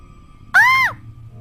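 A woman's sudden high-pitched scream of fright in a haunted forest near Manali, a single sharp rising-then-falling shriek lasting under half a second, loud and close against faint low background sound.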